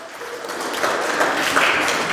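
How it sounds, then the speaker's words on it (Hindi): An audience at a Vivekananda Jayanti youth day and Gayatri lamp yajna gathering in Talegaon, Pune claps, the applause building into a dense, moderately loud patter. "जोरदार ताली।"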